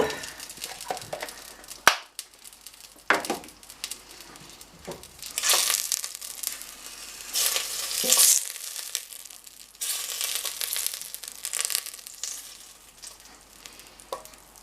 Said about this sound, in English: just slightly fry it off